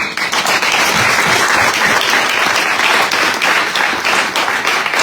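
An audience at a Guadeloupe cycling team presentation for the 2024 tour claps loudly and steadily for Eric Toi, a dense, continuous round of applause filling the room without pause.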